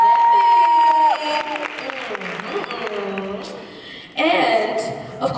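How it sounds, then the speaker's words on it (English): An audience at the Woman of Purpose Conference 2018 breaks into applause and cheers, a brief burst near the end that follows a stretch of amplified speaking. "give her a round of applause"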